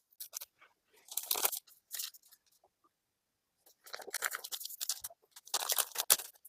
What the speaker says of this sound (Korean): 근데 밑단에 여유가 조금 있어서 그냥 있는 대로 그냥 자를 거예요.